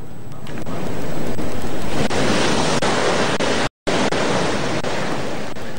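High ocean waves surge on the south coast of Java, a loud, continuous roar of breaking surf with wind rumble, cut by a brief dropout near the end.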